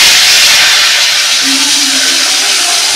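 Bay leaf, dried chilli and asafoetida sizzle in hot oil as a tempering for a cluster fig dish, giving a loud, steady hiss that stays close and constant.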